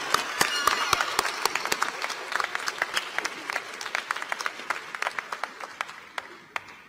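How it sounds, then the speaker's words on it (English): A commencement audience at the Southern University Law Center applauds a long-serving member, with dense clapping from a large crowd that gradually thins into scattered individual claps over several seconds. "he wants a round of applause for his long service to Southern University"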